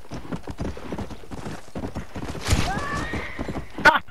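A horse in Red Dead Redemption trots with rhythmic clip-clopping hooves after a small jump, then lets out a loud whinny partway through, followed by a brief sharp sound at the end.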